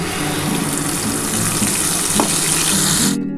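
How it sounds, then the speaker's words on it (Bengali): Mustard and green chili paste hitting hot hilsa fish oil in a pan, giving a loud, steady, close sizzle that holds evenly and then cuts off abruptly at the end. "এই তেলের মধ্যে এবার সর্ষে কাঁচা লঙ্কা বাটাটা দিয়ে দিলাম"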